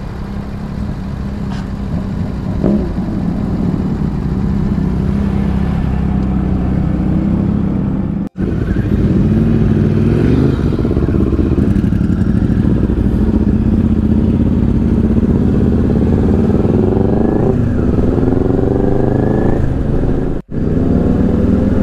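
A motorcycle on a Sunday group ride on the road to Raglan, a loud, steady engine drone with wind rush throughout, rising and falling slightly with speed, recorded close on the bike.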